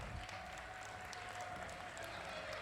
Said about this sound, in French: je vous demande de faire un tonnerre d'applaudissements pour ceux qui nous ont fait vibrer pendant cette grande finale